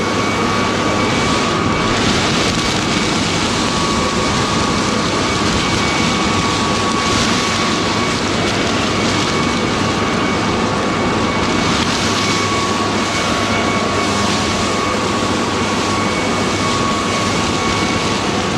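An electric leaf blower switched to its boosted power mode gives a loud, steady broadband roar with a thin constant whine, running alone for the whole stretch without letting up.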